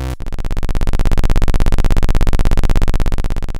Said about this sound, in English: And that is the sound of just channel 1 of this VCA feeding back on itself.